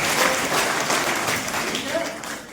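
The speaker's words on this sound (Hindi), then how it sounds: "इसके लिए पक्की ताली बजा दो" An audience at an Indian education and career guidance event breaks into steady applause, with dense clapping holding at a constant level throughout.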